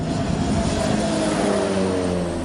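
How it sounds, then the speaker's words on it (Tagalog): A BFAR airplane in flight over the West Philippine Sea, its engine a loud, steady droning roar that holds evenly from start to finish with no voices. "Nagpalipad ng eroplano ang BFAR."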